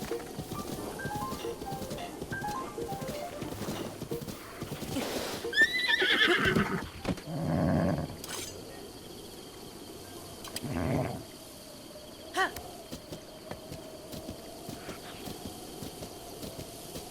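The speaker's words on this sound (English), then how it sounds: "I was not expecting to get a horse that easily." A horse in The Legend of Zelda: Breath of the Wild neighs and snorts several times, with hoofbeats and soft insect-like ambience around it, the whinnies loud and near.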